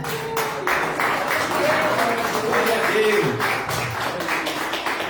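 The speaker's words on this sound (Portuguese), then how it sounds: "As palmas no Senhor Jesus." Congregation clapping during a family worship service at an Assemblies of God church, a sustained loud patter of many hands that swells in the middle and carries on steadily.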